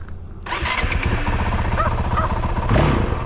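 A 2022 Honda CRF 450RL motorcycle engine fires up from cold on wet streets, catching after a brief crank and settling into a close, loud, choppy idle with a blip near the end.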